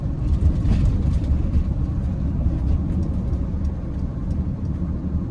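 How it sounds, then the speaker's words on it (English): A 2023 Mercedes-Benz Sprinter 2500 AWD van with a high-output 2.0-liter four-cylinder turbodiesel drives along, its steady low engine drone and road rumble filling the cabin at a constant level. "I just like the sound of the diesel"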